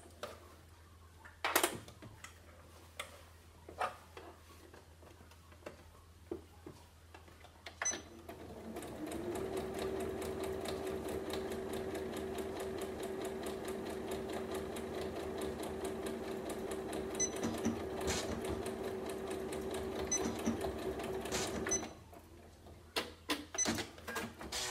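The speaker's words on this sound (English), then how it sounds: "Just do a section at a time, making sure that the other part of it is out of the way, so you're not sewing through both sides." A sewing machine stitches a Christmas stocking section by section, running in one steady burst of about twelve seconds between quieter handling noises, fairly close and with no talk.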